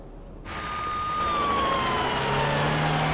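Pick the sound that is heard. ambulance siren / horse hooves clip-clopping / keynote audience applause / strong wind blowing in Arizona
ambulance siren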